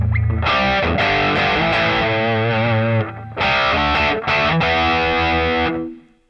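Heavily distorted electric guitar through a Boss Katana Mk2 amp on a preset patch plays a riff loudly in choppy bursts with brief gaps, ending on a fading chord.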